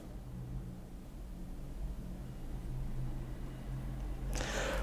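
Steady road traffic from a busy street, heard from an apartment loggia in Ivano-Frankivsk: a continuous low rumble of many passing cars, moderately distant, with a brief brighter hiss near the end and no talking.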